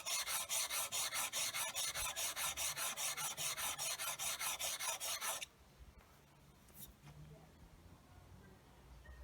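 A blade rasps back and forth on a coarse sharpening stone in fast, even strokes, loud and close for about five seconds, then the scraping stops and a few faint knocks follow.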